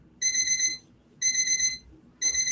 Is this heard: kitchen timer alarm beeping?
yes